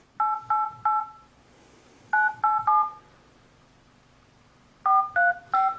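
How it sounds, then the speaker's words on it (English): Touch-tone dialing on a Droid Charge phone calling Samsung support: three quick bursts of three keypad tones each, separated by pauses, loud and clear with no talk. "we're going to call the Samsung support line"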